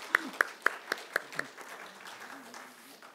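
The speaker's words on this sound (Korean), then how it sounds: "그래도 더욱 분발하고 힘내시라고 박수 한번 보내드리겠습니다." In a Korean church in Las Vegas, six sharp, evenly spaced hand claps ring out close by, then fade into a low murmur with a voice faintly present.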